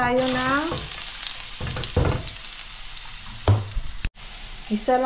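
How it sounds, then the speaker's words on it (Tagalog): Chayote sautés with garlic in a pan, sizzling and crackling under scattered stirring clatter, with a few louder bumps and a brief break partway through. "Gisa lang sa bawang."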